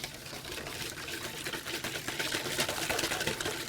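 Eggs yolks and sugar are whipped for creme brulee, giving a faint, continuous, busy whirring and swishing with no pauses.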